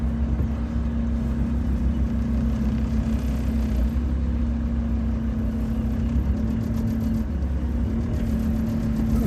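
Steady road rumble and engine drone inside a campervan driving through UK car traffic, continuous and fairly loud, with no voices.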